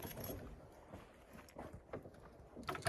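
Faint, irregular hoof clops of a Novoolexandrivsk draft mare walking on hard ground, with low outdoor background noise throughout.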